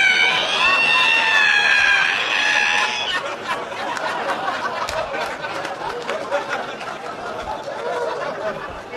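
A voice mimics a creaking ironing board being opened, a high, strained, wavering squeal lasting about three seconds on a stand-up comedy stage, then audience laughter and chatter follow.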